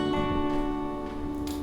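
Fingerpicked acoustic guitar pattern from the first verse of a song, a short run of plucked notes ringing over a steady low bass string, close and moderately loud with no talking.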